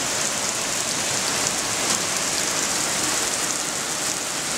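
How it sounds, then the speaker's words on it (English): Steady rain falls outdoors as a dense, continuous hiss of drops striking surfaces, loud and even from start to finish with no voices. "You can't really see this rain, but..."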